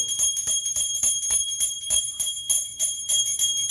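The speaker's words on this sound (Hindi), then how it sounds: "मैं सारे घर में घुमाऊंगी घंटी।" A hand bell rings steadily through a home Hindu puja, its bright metallic tones struck in a quick, even rhythm, close and continuous.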